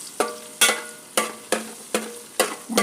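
Tomatoes and onions being stirred in a frying pan over a steady sizzle, with about seven sharp, evenly spaced scraping strokes, close and moderately loud, and no talking.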